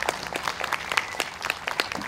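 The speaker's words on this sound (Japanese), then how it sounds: "改めて大きな拍手をお願いします。" Audience applause at an outdoor folk festival in Namie after the Komiya rice-planting dance by a folk performing arts preservation group from Iitate village; dense, steady clapping from a crowd, fairly distant and even throughout.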